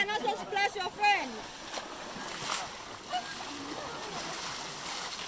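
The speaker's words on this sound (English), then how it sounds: "You can also splash your friend!" Water splashing and sloshing as elephants are washed in Thailand, broad bursts of splatter under excited voices and laughter, with a steady wash of moving water throughout.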